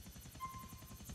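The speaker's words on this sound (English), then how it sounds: "I'm in the helicopter." Helicopter rotor chopping steadily in a GTA video game, a rhythmic, continuous whirring thump with an engine whine, quiet and even throughout.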